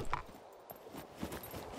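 Horse hooves clip-clopping in the survival video game Scum, a few soft irregular steps at moderate distance, fairly quiet and heard alone without talk.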